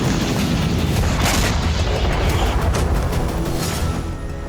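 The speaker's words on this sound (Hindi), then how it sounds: "डोनेस्क से ज़ैपोरिज़िया तक रूस की आर्टिलरी आग बरसा रही है।" Russian artillery fire and explosions on the Ukrainian front between Donetsk and Zaporizhzhia, a loud, sustained roar of deep booms and rumbling blasts that barely lets up.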